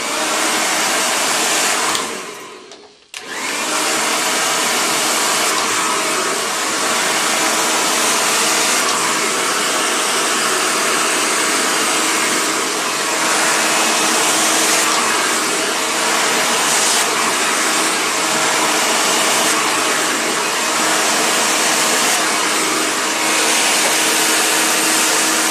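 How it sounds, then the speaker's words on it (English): A hairdryer fitted with a nozzle, blow-drying curly hair straight, roars in a loud, steady broadband rush, briefly cutting out near the start and then blowing continuously, with no talking. "Make sure you've got a nozzle on the end of your hairdryer."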